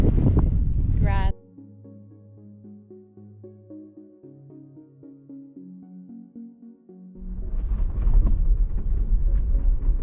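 Strong wind gusts at Governor's Arch in Grand Staircase-Escalante buffet the microphone loudly at the start and again at the end, with a stretch of steady tonal music in between.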